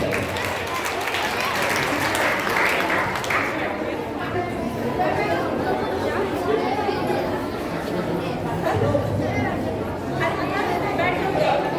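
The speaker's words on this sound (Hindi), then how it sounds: "जोरदार तालियां बच्चों के लिए।" Audience at a children's Ramlila school performance applauds and chatters, a dense steady crowd noise that swells early and continues with voices mixed in throughout.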